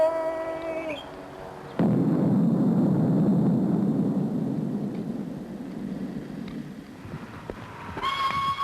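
A construction blast goes off at a 1964 hydroelectric project site in the Sierra foothills: one sudden deep boom that rolls into a long rumbling roar for several seconds, then dies away.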